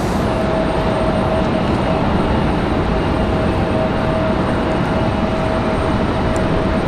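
An airliner taxiing at Raleigh-Durham International Airport, a loud steady broadband jet engine roar with a faint whining tone, constant throughout with no talking.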